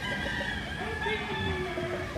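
Rooster crowing on a big Philippine breeding farm, a drawn-out crow rising over background clucking of other fowl, moderately distant and steady for about two seconds.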